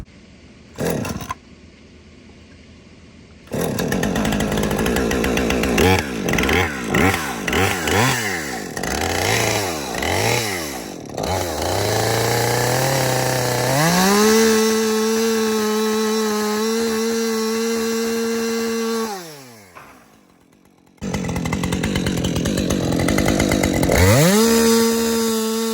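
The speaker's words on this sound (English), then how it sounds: "that's probably the silliest thing I've done with a chainsaw" A chainsaw starts, revs up and down in uneven bursts, then settles into long sustained high-revving cuts through wood, loud and close, with brief pauses when it idles or stops.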